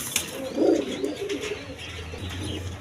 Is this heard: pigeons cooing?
yes